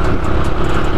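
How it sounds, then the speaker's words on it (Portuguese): Motorcycle ridden in the morning, a steady close engine hum mixed with wind rush, constant and fairly loud for about a second with no voices. "Olha que gostosinho andar de moto logo cedo,"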